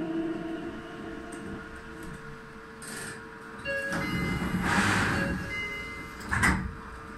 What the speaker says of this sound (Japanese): ドアが開きます。 ご注意ください。